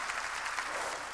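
A church congregation claps in a brief, continuous wash of applause at moderate volume, with no voices audible over it.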